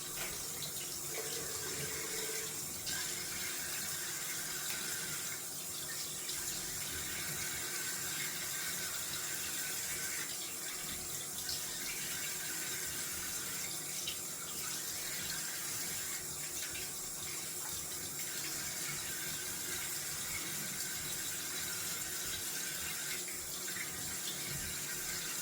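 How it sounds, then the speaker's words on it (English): A water tap runs steadily into a sink for cold-water rinsing after a wet shave, a constant close hiss and splash that continues unbroken with no talking. "Okay, let's rinse off cold water."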